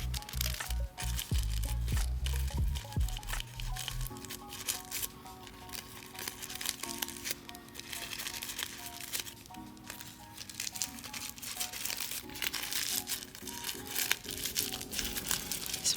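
Sheets of tissue paper being gently folded into flower shapes for a flower crown, giving soft crinkling and crumpling rustles, louder at first and then lighter, with a faint tonal background underneath.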